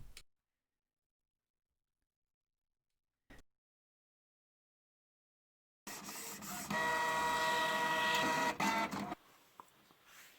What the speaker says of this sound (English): I like to print it on the paper just to see if it will fit into the plastic container